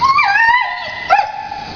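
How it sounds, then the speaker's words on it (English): A shelter dog gives a short, high yelping whine with a rising howl-like tone, followed by a second brief yip, close and clear with no talking. "Our first dog is Lizzie."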